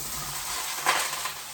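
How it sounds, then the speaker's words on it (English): Vegetables hit hot oil in a large skillet for a stir fry, giving a steady, close hiss of sizzling with a brief louder crackle as they settle in. "when you go to put your vegetables in, you should hear a really nice sizzle"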